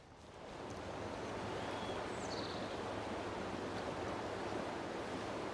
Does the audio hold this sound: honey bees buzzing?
no